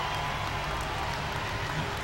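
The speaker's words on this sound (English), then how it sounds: "Let's give him a nice round of applause" A crowd in the stands at a light super stock tractor pull in Louisville, Kentucky, gives steady, distant applause, a dense even wash of clapping with no break.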